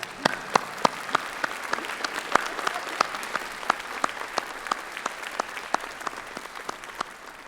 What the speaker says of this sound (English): Graduates, can I ask you to stand and please join me in a round of applause